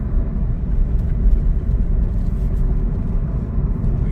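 A 2017 SsangYong Tivoli cruises at a steady speed near 1400 RPM. Heard from inside the cabin, it gives a constant low rumble of engine and road noise, even and unbroken throughout.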